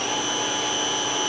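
A Dadson DS1342-KM CNC knee-type gun drill spindle runs at a steady speed near 1092 rpm, giving a constant, fairly loud whine with sustained high tones over a broad mechanical hum, with no change in pitch and no voices.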